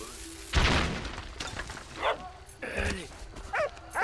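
A dog in the video game Valiant Hearts lets out several sharp barks and yips spaced across a few seconds, loud and close, with short gaps of quieter background between them.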